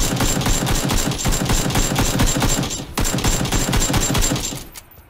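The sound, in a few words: gunfire shooting at a Jeep in the video game PUBG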